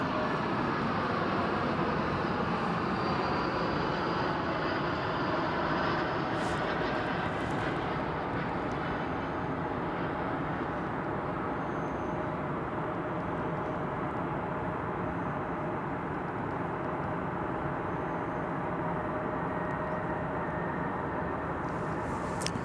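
American Eagle Embraer 175 jets arriving at DFW Airport produce a steady, distant engine drone that holds level throughout, faint and continuous with no voices.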